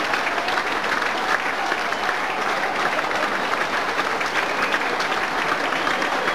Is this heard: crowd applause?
yes